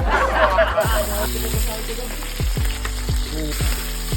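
Tilapia fries in a pan with a loud sizzle, and brief laughter and voices are heard early. A low repeating mechanical hum with regular pulses runs under the sizzle for the rest of the clip.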